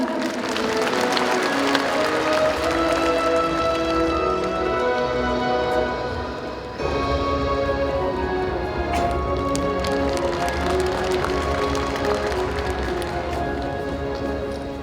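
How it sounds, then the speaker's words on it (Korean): Audience at the Kim Dae-jung 100th birth anniversary ceremony applauding to welcome Prime Minister Han Duck-soo, a loud, sustained roar of many clapping hands lasting about fifteen seconds, briefly dipping midway before swelling again. "여러분 따뜻한 박수로 맞아주시기 바랍니다."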